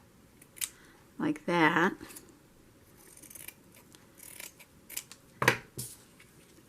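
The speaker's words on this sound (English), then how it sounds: "Now this has wire in it, so you got to be careful what scissors you use when you cut across" Scissors snip across a wire-edged fabric ribbon in a crafting setting, a couple of short crisp cutting bursts with quiet pauses and a brief spoken phrase.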